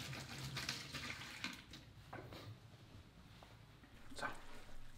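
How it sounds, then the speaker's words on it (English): A running kitchen tap pours steadily while hands are rinsed under it, a close continuous splashing with small clatters and shifts in the flow. "now I will actually quickly rinse my hands"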